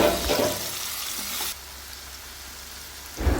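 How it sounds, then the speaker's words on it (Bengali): Boiled olives with spices stirred in a frying pan, a loud hissing sizzle with scraping that drops abruptly to a quieter simmer partway through, and a brief thump at the end. "এগুলো এখন আমরা নেড়ে ভালোভাবে মেখে নেব"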